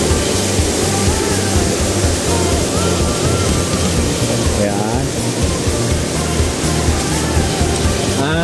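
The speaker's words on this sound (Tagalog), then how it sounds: "So ito, malakas ang daloy ng tubig dito." Strong, loud rush of water pouring down a man-made waterfall, a dense continuous roar heard close up, with a person speaking briefly over it.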